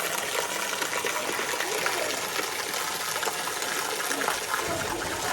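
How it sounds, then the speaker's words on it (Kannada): The Brahmi river runs at the Kamandala Ganapati temple in Koppa, Chikkamagaluru: an even, rushing wash of water that holds steady and close for the whole stretch. "ಬ್ರಾಹ್ಮಿ ನದಿ"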